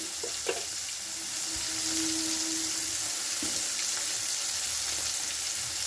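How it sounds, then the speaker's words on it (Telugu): Onions and tomatoes sautéing in a pan for an egg omelet curry, a soft steady sizzle with a few light clinks and stirring scrapes. "ఇలా ఎర్రగడ్డ, టమోటా, ఆనియన్స్ని కొంచెం మగ్గించి"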